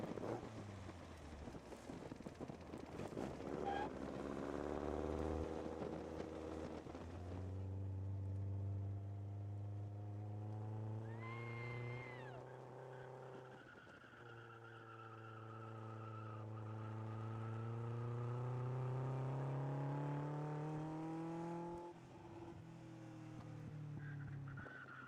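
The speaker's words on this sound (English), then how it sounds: "This car is very powerful and very fast." A powerful, fast Lotus car drives with a loud, continuous engine roar that rises and falls in pitch as it accelerates and shifts, heard close with some wind noise and no talk.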